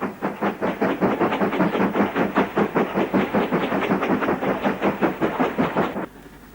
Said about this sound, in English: Two Class 5s take an extremely short freight north.